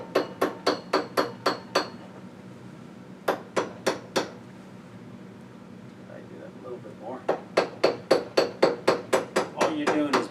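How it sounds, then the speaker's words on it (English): Sharp metallic hammer taps peening the edges of soft aluminum in quick rhythmic bursts, a pause with a few single strikes, then another fast run of light blows. "because it is soft aluminum, we're just going to take a hammer and peen around the edges"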